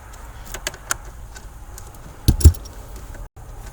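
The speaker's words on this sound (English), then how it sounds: "We're going to take a ratchet and we are going to loosen the plug." A ratchet loosening a 7mm screw holding a plug in a 2000 Ford F150, sharp clicks and a few quick bursts of ratcheting, close and fairly quiet, with no speech.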